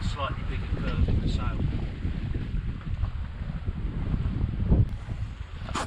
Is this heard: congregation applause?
no